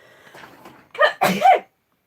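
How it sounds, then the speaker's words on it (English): A single sneeze, preceded by a quiet breathy build-up, then a sharp two-part burst close to the listener. "Oh, I'm gonna sneeze again."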